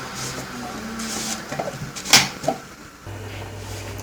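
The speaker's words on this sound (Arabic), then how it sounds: "دابا غادي نردها نطحن الخضره ديالي." Cooked vegetables being blended into soup: clattering and handling noises give way to a blender motor starting up and running with a steady, close hum in the final second.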